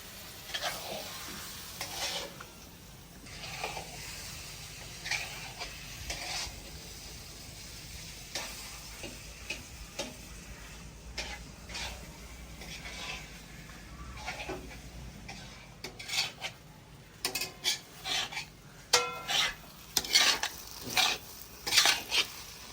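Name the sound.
semolina being stirred and cooked in a pan for halwa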